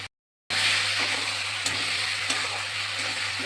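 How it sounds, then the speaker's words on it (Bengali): Pre-fried potatoes sautéing in hot oil for a fish curry, a steady close sizzle and hiss after a brief silent start, with a few soft clicks of stirring. "আলু দিয়ে একটু কষিয়ে নেবো"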